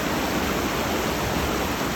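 Creek water on a rural property runs in a steady, even broadband wash, close and continuous with no pauses and no voices.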